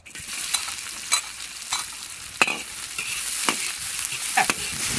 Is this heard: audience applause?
no